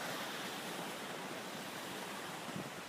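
Steady broadband roar of the waterfall at Taughannock Falls, seen from the Black Diamond Trail on a freezing day, filling the whole stretch at an even, fairly loud level with no pauses and no voices.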